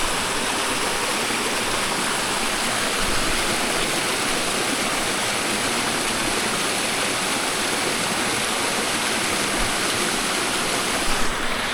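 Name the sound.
flowing creek water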